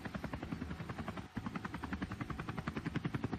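A helicopter over a mountain bike race, the Cape Epic prologue, gives a steady rapid rotor chop, moderately loud, with the regular beating continuing throughout.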